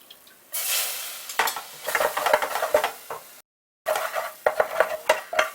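Spoon stirring butter-flour roux into fish chowder over low heat, close scraping strokes against the pot over a soft sizzle, with a brief dropout midway and no speech.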